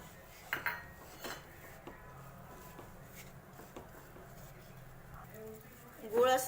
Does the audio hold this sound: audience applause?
no